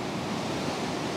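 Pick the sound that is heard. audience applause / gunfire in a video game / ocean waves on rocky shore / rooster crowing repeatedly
ocean waves on rocky shore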